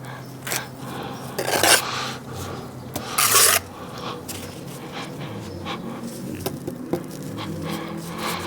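Mortar smeared on the face of a brick is rubbed down by hand, giving dry rasping scrapes with two louder gritty bursts among softer, uneven strokes.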